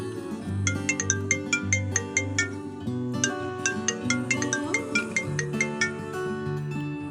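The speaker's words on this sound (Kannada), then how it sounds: "ರಿಂಗ್ ಆಗ್ತಿದೆ." A phone rings with a melodic ringtone, a bright repeating chime pattern over sustained tones, playing continuously at moderate volume with no talk in a scene from a Kannada short film.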